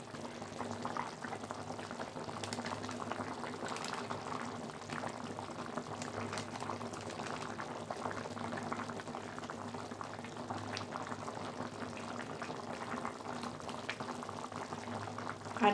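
A vegetarian chhana bora and potato curry bubbles steadily in a pan, a continuous soft simmering burble with small pops, close and even throughout, no talk.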